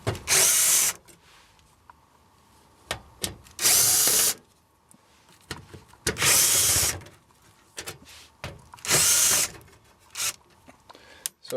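Power drill backing screws out of an AC duct panel, with four loud whirring bursts of about a second each at regular intervals and quieter clicks and handling noises between them.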